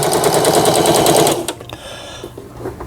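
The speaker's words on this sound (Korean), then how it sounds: "요 이제 지그잭 바느질이죠." A Singer 3722 household sewing machine runs a zigzag stitch, giving a loud, close, rapid mechanical rattle for about a second and a half before stopping, followed by quieter clicks and handling noises.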